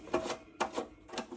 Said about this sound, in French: Donc je vais le dévisser avec vous.